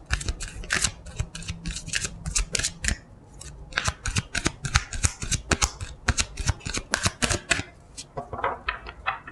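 Tarot cards are shuffled and drawn in quick bursts of crisp riffling and slapping, close and clear, with short pauses between flurries and a voice speaking softly now and then.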